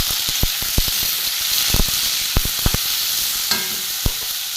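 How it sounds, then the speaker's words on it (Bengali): Chopped green chillies frying in oil with potatoes and tomatoes in a pan, producing a steady loud sizzle broken by scattered spoon taps and scrapes against the pan. "এখানে কাঁচা লঙ্কা কুচানো, একটু ভালো করে ভেজে নেব"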